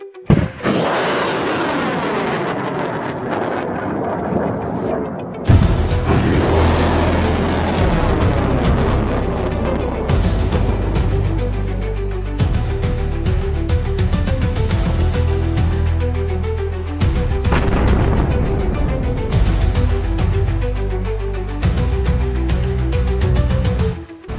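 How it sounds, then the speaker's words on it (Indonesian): Missile blasts and torpedo explosions at sea roll on continuously, loud booming detonations layered over dense rumbling and crackling debris, with repeated heavy impacts throughout. "Dentuman rudal, ledakan torpedo"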